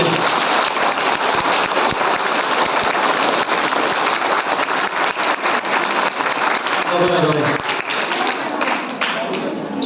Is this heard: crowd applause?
yes